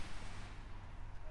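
Shooter video game gunfire, a short burst of rapid booming shots rolling together over about a second, dense and mid-loud with voices underneath.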